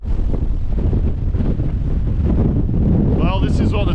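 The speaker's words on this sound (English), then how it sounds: "It's windy as fuck." Strong wind at the top of a tower roars and buffets the microphone continuously, loud and close, with a voice briefly heard under the gusts.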